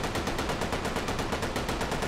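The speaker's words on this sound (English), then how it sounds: "So yeah, this is the Bren gun. Let's do some more shooting." A Bren gun firing in rapid automatic bursts, a dense regular stream of loud, close shots over about two seconds.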